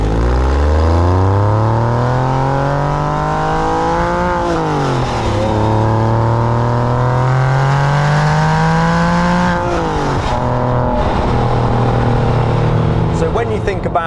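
A Porsche 911 996 Carrera 4S engine revs steadily at light throttle, pitch climbing and falling in long smooth sweeps, loud and close, with no voices.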